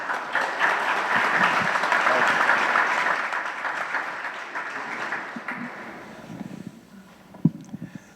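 Audience applause welcoming a special guest, a dense, steady burst of clapping from a room full of people that gradually thins and fades, with a few scattered claps and a voice near the end.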